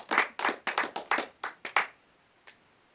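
A small group claps for an interview guest in a room: about eight quick, uneven bursts of clapping over two seconds, then a single faint clap after a pause.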